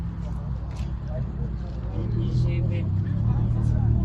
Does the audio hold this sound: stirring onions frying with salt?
no